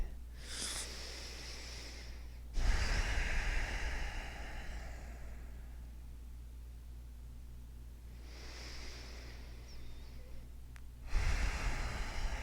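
Slow, deep yoga breaths, with long airy inhales and exhales rising and fading in a steady rhythm, close and breathy against a quiet background hum.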